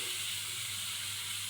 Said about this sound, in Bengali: এরপর আমি চিংড়িগুলোকে ভাজা করতে শুরু করলাম